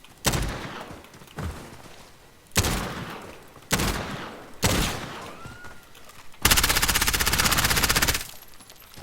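MP7 submachine gun fire in Call of Duty Modern Warfare Warzone, several short loud bursts with brief pauses between them, ending in one longer sustained rapid-fire burst, close and punchy with no voices.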